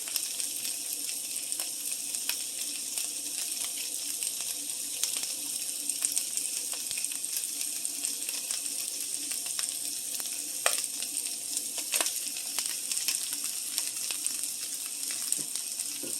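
Onions fry steadily in a pan, a continuous close sizzle with faint crackles and occasional stirring scrapes, with no talking.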